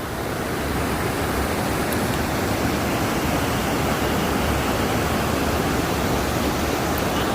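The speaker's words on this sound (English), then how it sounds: "So here's the falls." Cataract Falls in Indiana roars as a loud, steady wash of falling water close at hand, unbroken for the whole stretch with no voices over it.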